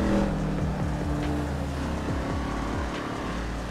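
Ford Mustang engine in GTA 5, a loud revving growl with rising and falling pitch sweeps as the car changes gears, close and continuous.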